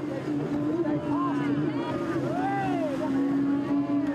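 Powerboats racing in the P1 World Championship, Evolution and Supersport classes, make a steady loud engine drone with pitch sweeps from passing boats, wind buffeting over it, and a narrator speaking throughout.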